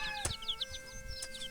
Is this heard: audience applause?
no